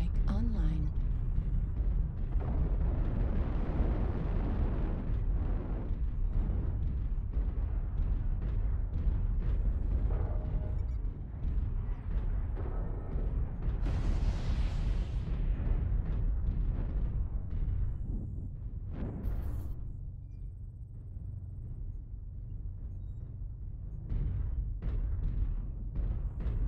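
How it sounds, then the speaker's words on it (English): Repeated artillery strike explosions from the River City map, loud and continuous with heavy low rumble throughout, one sharper burst partway through, in a mech combat game; a game voice announces the strike around them. "Artillery strike online."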